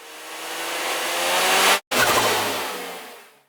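Turbocharger whine from a car, a steady broadband rushing tone that builds over about two seconds, cuts out abruptly for an instant, then resumes and gradually fades, loud and continuous with no voices.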